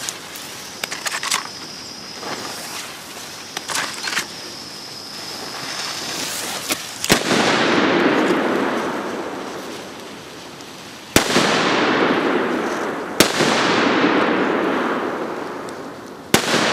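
Loud fireworks fire outdoors, each launch followed by a dull boom and a long crackling, hissing tail that slowly fades; three or four big bursts come several seconds apart over steady background noise.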